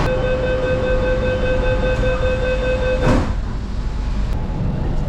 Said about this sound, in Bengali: ছাড়লো আমাদের মেট্রো